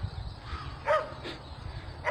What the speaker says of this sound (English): It's just a dog. But he's pretty noisy.